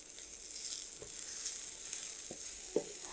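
Onions sizzle in a pan for Cox's Bazar hotel-style tomato bhorta: a steady, fairly quiet frying hiss broken by a few soft stirring clicks near the end.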